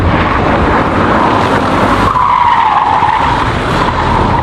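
Car tires skid and squeal loudly through a corner during understeer and oversteer, a sustained harsh screech that shifts pitch midway, with no voices.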